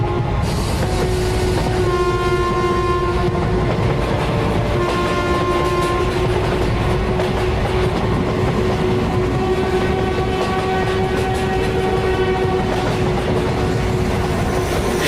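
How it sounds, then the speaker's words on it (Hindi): A train pulls away from a station, its horn sounding in long sustained tones over steady rumbling and clattering of the carriages, loud and continuous throughout. "ट्रेन चल पड़ती है।"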